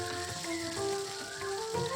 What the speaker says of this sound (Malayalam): തേങ്ങാക്കൊത്തൊക്കെ ഒന്ന് നന്നായിട്ടൊന്ന് വറുത്ത് വരുന്നവരെ